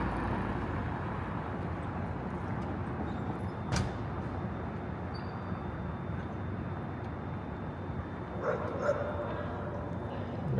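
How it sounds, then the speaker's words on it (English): A dog barks a few times at a distance during a nighttime walk through downtown Toronto, short sharp yips rising briefly over steady city street noise and traffic rumble. "I hear a dog barking."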